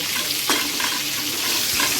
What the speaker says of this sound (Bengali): বেশি যাতে পুড়ে না যায় পটলগুলো সেইভাবে ভাজতে হবে